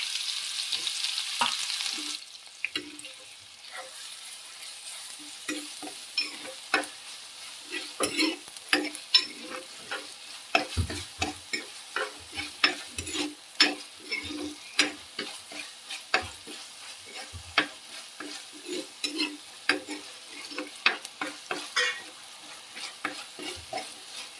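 Crushed onion, garlic and ginger frying in oil after fenugreek seeds have popped, for a Kuttanad toddy-shop curry. A soft sizzle runs under many close, rhythmic scrapes and taps of a spoon stirring in the pan.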